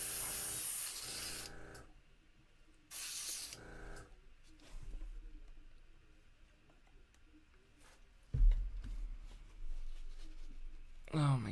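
Airbrush spraying paint onto a Pokeball, heard as short, close hissing bursts of a few seconds each, separated by quieter gaps with soft handling noises.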